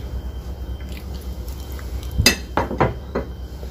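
Hand grinding of peanut and anchovy sambal ingredients with a mortar and pestle, a few sharp clinks and scraping knocks near the end over a quiet kitchen background, no talking.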